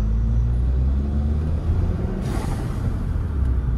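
Volkswagen Jetta turbo car pulling away, a loud close low engine rumble that swells and then eases as it accelerates.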